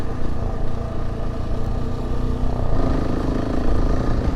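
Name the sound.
KTM 690 motorcycle riding over rocky terrain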